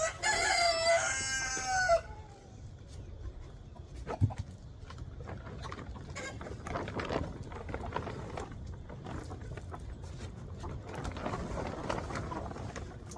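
A rooster crows loudly at the start, then stops, followed by quieter rustling and scattered clucking nearby.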